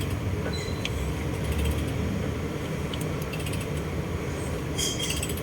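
A 2014 Hyundai Santa Fe CRDi diesel engine with a noisy timing chain is turned over by hand, giving a steady mechanical grinding with scattered metallic ratchet-like clicks and creaks at close range.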